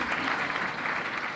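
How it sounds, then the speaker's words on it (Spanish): Applause from an audience at a talk on science and worldview in Uruguay, a steady dense wash of clapping filling the whole moment at even loudness. "aplauso para Jung"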